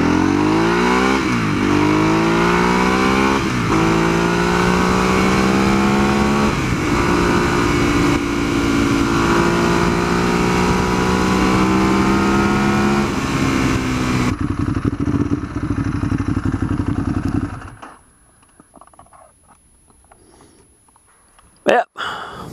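A Ducati Hypermotard motorcycle rides along a road on a sunny early morning. Its engine note rises and falls through the gears over steady loud wind rush, then drops away to near quiet at the end.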